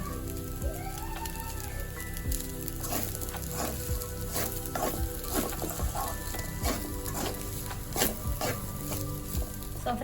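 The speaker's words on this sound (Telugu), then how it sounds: "ఫైనల్గా అయితే కొత్తిమీర వేసేసుకొని ఒక్కసారి కలిపేసుకుందాం" Tomato rice being stirred after fresh coriander is added, giving a steady soft sizzle with scraping and patter of a spoon through the rice in a pan, continuous and close with no talking.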